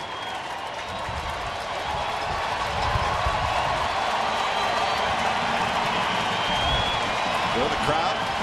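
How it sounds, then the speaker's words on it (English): A baseball stadium crowd cheers and claps during a Detroit at Oakland game, a broad roar that swells partway through and holds steady beneath a commentator's voice. "The crowd making some noise."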